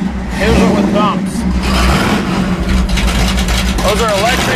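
Loud, close rumble of a 1970 Dodge Super Bee exhaust with electric cutouts open, a deep throaty V8 burble that swells with blips of the throttle, while someone talks over it.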